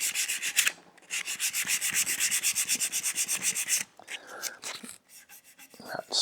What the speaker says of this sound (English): I'm going to wrap that with 220 grade sandpaper, grit, and just sand away